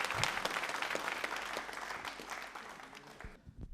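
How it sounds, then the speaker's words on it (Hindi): Audience applause fills a studio hall, steady dense clapping from many hands that tapers slightly before cutting off near the end. "तालियां जोरों से बजाओ एक बार आप।"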